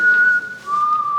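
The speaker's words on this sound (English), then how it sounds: "put an end to the whistling" A single whistled tone during a stage play of Peter Pan, held clear and loud at one pitch, dipping briefly, then resuming a little lower and steady to the end, with no talking.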